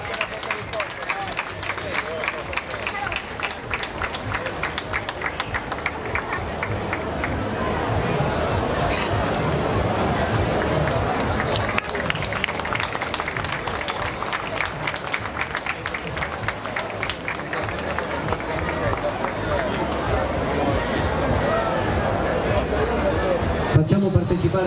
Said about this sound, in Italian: Facciamo un altro applauso ai vincitori, dato che sono stati tutti ex aequo